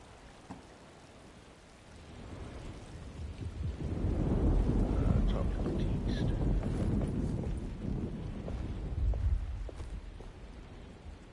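A thunderstorm rolls through the Alone in the Dark video game as a low, swelling rumble with steady rain and wind noise that builds, holds loud, and eases off without any talk.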